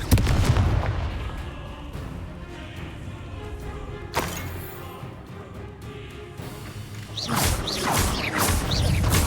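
A Confringo blasting spell erupts in Hogwarts Legacy, a loud booming blast at the start followed by a sharp second impact near four seconds, rumbling battle noise, and a burst of crackling effects toward the end.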